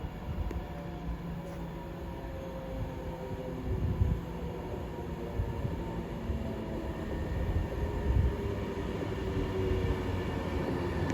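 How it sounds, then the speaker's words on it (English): A Class 390 electric train on the West Coast Main Line rolls into Watford Junction, a sustained low rumble and rail hum that swells gradually over several seconds, moderately close with no talk. "Incoming now, about 15 minutes late, will be the 1339. A Van to West Coast service from Glasgow Central to London Euston."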